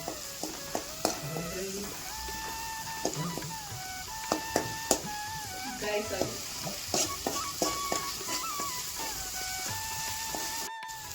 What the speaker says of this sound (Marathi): तेल सुटेपर्यंत चांगलं परतून घ्यायचं त्याला चांगला.